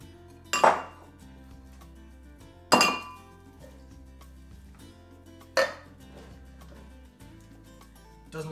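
Vegetables tossed into a cooking pot for salmon mornay, three separate metallic clinks and clatters spaced a couple of seconds apart over a quiet kitchen background, close by.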